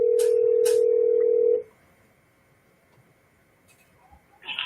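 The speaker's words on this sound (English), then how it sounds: "I hear the ringing." A single long ring tone from a telephone call, loud and steady for about a second and a half before cutting off into quiet line hiss, with faint clicks near the end.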